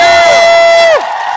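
A loud crowd of fans cheers and whoops for the host at a large hall event for a Turkish series' final season, with a sustained high shout that cuts off.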